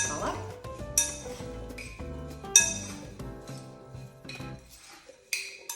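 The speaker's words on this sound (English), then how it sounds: "I'm just going to mix it all up." Cut sweet potato and apple pieces are tossed with olive oil in a bowl, with repeated bright clinks and chimes of a utensil striking the dish, some ringing out, near and fairly loud, with no speech in between.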